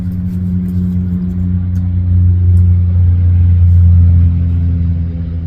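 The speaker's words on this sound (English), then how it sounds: "Trucks going by on I-25" Trucks rolling past on the I-25 highway, a steady low rumble that swells to a peak and then eases off in the middle distance.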